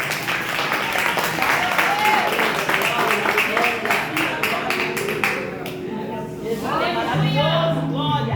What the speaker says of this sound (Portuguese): Pode tomar assento, por favor, aplaudindo a Jesus.